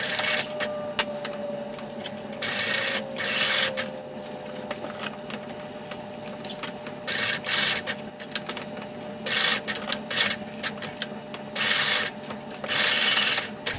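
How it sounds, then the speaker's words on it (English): A sewing machine stitches a fabric pumpkin placemat in repeated bursts of fast mechanical whirring, separated by short pauses, close and fairly loud. "So I'm going to sew looking at it from this side."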